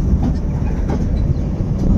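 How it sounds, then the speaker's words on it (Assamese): A train rolling slowly over an old bridge, producing a heavy low rumble with muffled rhythmic wheel knocks, steady and near. "ব্ৰিজৰ ওপৰেদি গৈ আছে কাৰণে ট্ৰেইন বহুত লাহে লাহে আৰু ভালকৈ গৈ আছে।"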